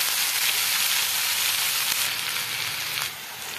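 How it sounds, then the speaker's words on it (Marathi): Onion frying in oil until it turns reddish, a steady close sizzling hiss with faint stirring, dipping slightly in loudness near the end, no voices. "हे बघा, आपला कांदा छान भाजत आहे।"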